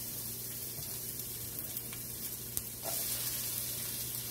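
Onions sauté in a little oil in a pan, giving a steady close sizzle and crackle throughout that grows slightly louder toward the end.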